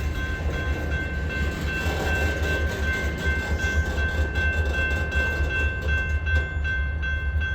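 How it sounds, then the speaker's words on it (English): Freight train with center beam cars backing up at a slow pace near DeQueen and Eastern railroad tracks in Valiant, Oklahoma, giving a steady low rumble and rolling noise close by, with no voices. "They're backing up so you can go through."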